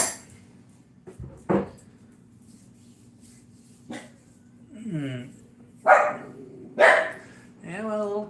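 A few scattered dog barks and yelps ring out against a quiet room, with pauses between them and some faint talking.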